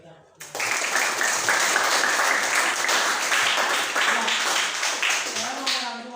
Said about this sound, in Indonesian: telah memberikan aplaus kepada mereka